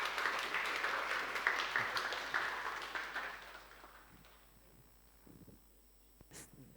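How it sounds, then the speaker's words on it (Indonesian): Audience applause for pianist Calvin Abdiel at the close of a piano masterclass session, a steady wash of clapping that gradually thins and fades out over several seconds. "Sekali lagi kita berikan tepuk tangan untuk Calvin Abdel dan semua teman-teman yang sudah ada di sesi 2"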